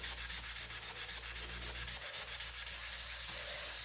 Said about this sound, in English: So it's just to continue rubbing until all is clean.